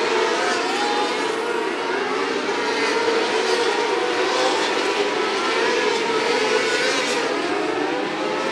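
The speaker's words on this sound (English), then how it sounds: "Here comes the 8 car." A race car roars past on the track at Macon Speedway during the Bennett Memorial, the engine a loud, steady drone that stays strong throughout.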